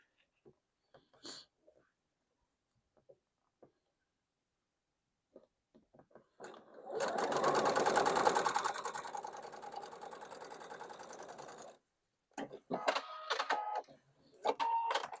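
Sewing machine stitching coral and green quilt fabric pieces together, a steady mechanical whir of about five seconds at close range after a few soft handling clicks, followed by rustling of fabric.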